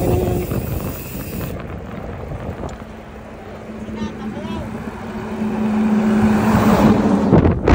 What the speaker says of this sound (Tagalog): Ayan, may truck.